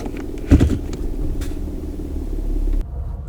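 A Toyota Crown, eighth or ninth generation, pulling away from a stop: a low engine rumble rises as the car moves off, with a thump near the start, then cuts out abruptly before the end.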